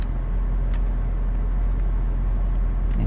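A 1985 Mercedes-Benz 500SEC AMG with a 6.0-liter engine rumbles steadily from inside the cabin, a low, muffled drone that holds constant without any talk over it.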